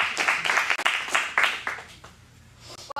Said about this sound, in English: another round of applause for Costco Return